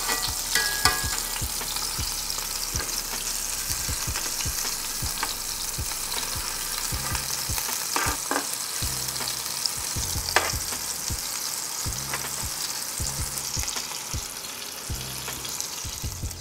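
Meatballs searing in a frying pan, a steady close sizzle and crackle with frequent small pops and occasional taps of a utensil, with no talking.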